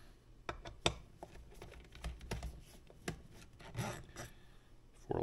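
A metric Allen wrench turns four long screws out of a Yeti smartbench. Faint close-up scraping and rasping comes in short uneven bursts, with small ticks and clicks, and no talk over it.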